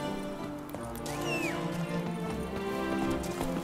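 Roach, a horse in The Witcher 3, trots with steady clip-clopping hooves amid game music and ambient sound, with a brief whinny-like sweep partway through.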